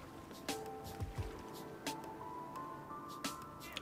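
A wooden paddle dips and splashes as a raft is rowed across water in Hitman 3, a few soft strokes and drips under faint ambient tones and bird-like background sounds.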